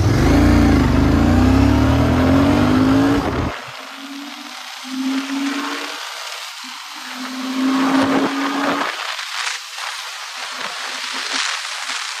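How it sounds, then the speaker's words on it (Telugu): A Royal Enfield Continental GT 650 motorcycle being ridden, its engine note rising and falling through revs and gear changes over rushing wind, loud and close. "ఒకసారి బైక్ రైడ్ చేసి చూద్దాం ఎలా ఉంటుందో."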